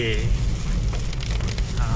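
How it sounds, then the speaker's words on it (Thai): Heavy rain pours steadily onto a flooded road in Khon Kaen, Thailand, a dense continuous hiss and patter that stays loud for the whole stretch, with a faint engine rumble underneath and no talking. "ตอนนี้ฝนก็ยังตกมาอย่างต่อเนื่องเลยนะครับ"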